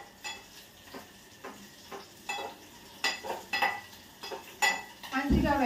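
Ripe tomato and green chillies cooking down in hot oil, with a faint sizzle beneath repeated scraping and clinking strokes of a stirring spoon against the pan, steady and close.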